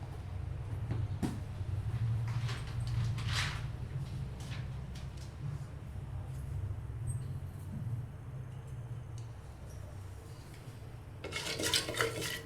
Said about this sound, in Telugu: బాగా కలుపుకోవాలి ఫ్రెండ్స్.